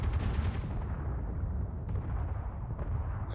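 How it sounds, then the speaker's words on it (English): Big explosion and gunfire in the video game Space Engineers, heard as a dense, continuous rumbling roar of blasts with muffled booming impacts and a few sharper hits, fairly quiet and distant, with no speech. "And that was a big explosion."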